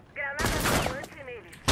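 Gunfire in the video game Rainbow Six Siege, a fast burst of loud shots through the middle and a sharp final crack at the end, with a voice speaking over the shooting.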